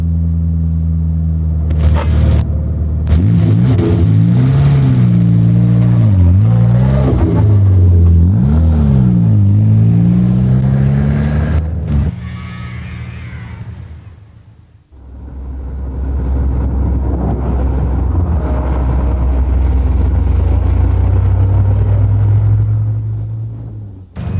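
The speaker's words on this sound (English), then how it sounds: "this machine has a low compression engine, which gives it more torque at low revs" A Morris Minor's small low-compression engine revs and rumbles up and down through gear changes, loud and close, then settles into a steady droning run.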